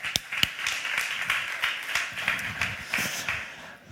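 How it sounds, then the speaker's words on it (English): Audience applause at a startup competition on a conference stage, a moderate, fairly distant patter of many hands clapping steadily. "An applause for him."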